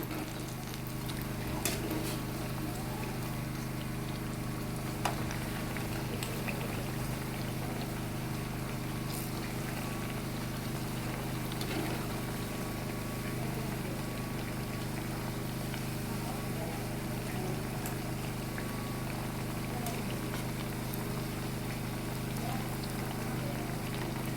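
Banana fritters (pazhampori) fry in hot oil, giving a steady, dense sizzle and crackle with scattered pops that runs throughout without pause.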